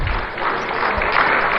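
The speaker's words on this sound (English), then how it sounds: "Round of applause, please, for them." A crowd applauds at a Julius Malema speech in Accra, a dense, steady wash of clapping that holds at an even level from start to finish.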